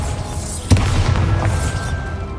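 A single sharp blast from the Bombarda spell in Hogwarts Legacy, a sudden loud crack followed by a rumbling tail over ongoing ambient game sound.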